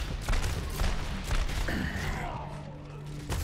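Reaper's twin shotguns blasting in the Overwatch video game, a few dense bursts of gunfire mixed with game effects and a faint voice in the background.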